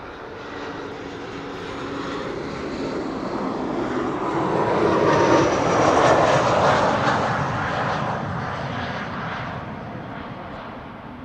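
Embraer 190 airliner arriving at Amsterdam Schiphol from Teesside, its engine roar swelling steadily from a distance to a loud broad rush overhead, then slowly fading, with no voices.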